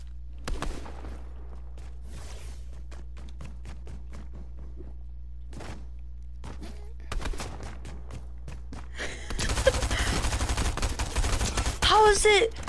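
Rapid SMG fire in a Fortnite match comes in sporadic short bursts, then a dense sustained volley near the end, with a player talking over parts of it.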